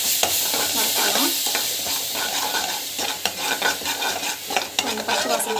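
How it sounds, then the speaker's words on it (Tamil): Tomato puree sizzles and fries in a pan while a spoon stirs it, scraping and clinking against the metal over a steady crackle, close up. "ஸோ இது வந்து பார்த்திங்கன்னா நல்லா வந்து வறுத்துக்கலாம்."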